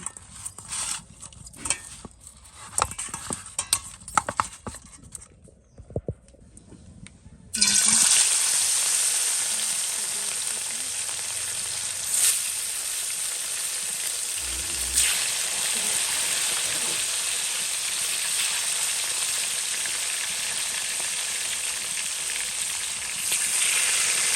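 Fish fries in a pan. Quiet clattering comes first, then a loud, continuous sizzle bursts in and carries on steadily to the end.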